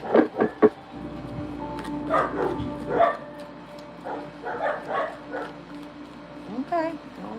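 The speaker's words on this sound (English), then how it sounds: "The dogs are barking." Dogs bark, yip and whimper outside, several sharp barks in quick bursts followed by scattered yelps, moderately close, with a person talking over them.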